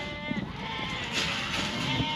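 Sheep being gathered for weaning on a farm bleat close by, a couple of wavering calls overlapping one another against outdoor rumble.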